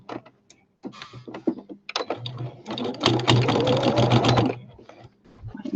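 Sewing machine running a straight stitch on a flower basket project, a steady rapid mechanical whir building to a sustained loud burst, preceded by short clicks and stops with brief quiet talk.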